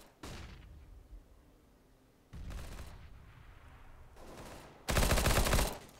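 Gunfire in a CS:GO match at a school LAN tournament, with several separate loud bursts of shots; the final burst near the end is the loudest and densest, and the gaps between bursts are quieter.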